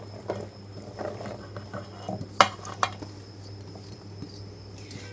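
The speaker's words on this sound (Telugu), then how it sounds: "ముందుగా ఉల్లిపాయలు, టమాటాలు, మొత్తం ముక్కలన్నీ కూడా నేను తీసుకున్న కరివేపాకుతో సహా" Chopped onions, tomatoes and curry leaves are tipped into a bowl amid light kitchen clatter, with a few sharp clinks of utensil on bowl over a steady low hum.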